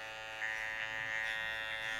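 Andis hair clippers buzz close up while trimming hair during a low fade haircut, a steady electric whir that rises slightly as the blades move through the hair, with no talking.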